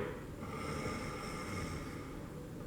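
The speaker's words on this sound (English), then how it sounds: "It was the sound of snoring." Steady, rough snoring breaths continue throughout, with a low rumbling drone and no pauses or voices.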